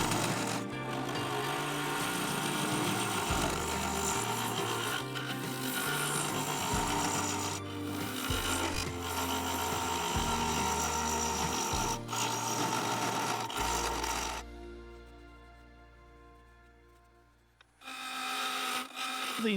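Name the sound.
carbide cutter turning walnut and epoxy resin bowl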